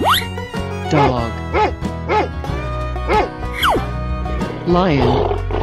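A cartoon-style lion roars in a series of rising and falling growling calls, loud and close, mixed with music and lively sound effects in a children's animal learning piece.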